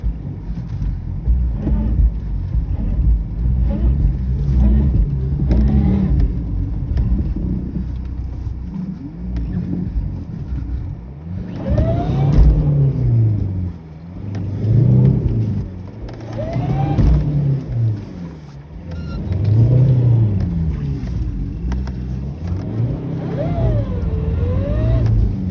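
A car engine revs repeatedly in swelling bursts that rise and fall over rough idle, close and loud, with wind buffeting and short background voices between.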